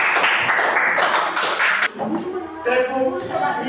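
Schoolchildren in a seventh-grade classroom clap for a presenting group: a dense, loud burst of many hands lasting almost two seconds, fading into scattered claps and classroom noise with voices.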